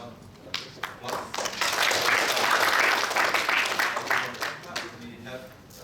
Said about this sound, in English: maybe give Professor Bono applause